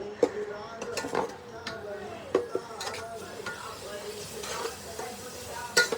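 Spice masala cooked down with tomato in a pan for a Bengali desi chicken curry, a spoon scraping and clinking against the pan in irregular strokes over a soft background sizzle, close and moderately loud.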